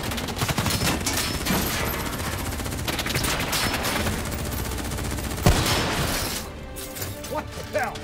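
Rapid automatic gunfire in Call of Duty: Black Ops 3, loud sustained bursts crackling nearly nonstop with a heavy impact crash partway through, then a brief easing as combat voices shout over the shooting.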